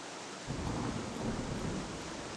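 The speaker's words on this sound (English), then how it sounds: "Got a little lightning action going on." Thunderstorm in the island survival game Escape the Pacific: a faint rumble swells into steady, rain-like noise that continues at a low level, with no talk.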